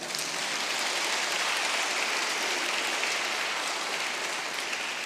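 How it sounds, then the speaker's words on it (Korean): Church camp service congregation applauding steadily, a dense, even wash of clapping sustained throughout without a break. "박수 한번 칠까요?"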